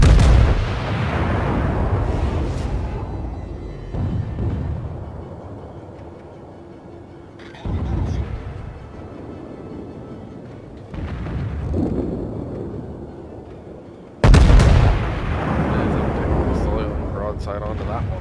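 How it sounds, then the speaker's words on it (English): Main battery guns of the battleship Haruna firing in the naval game World of Warships, three heavy booming salvos with long rumbling tails spread across the clip, while someone talks throughout. "Now, if I try to bring all the guns to bear on that guy,"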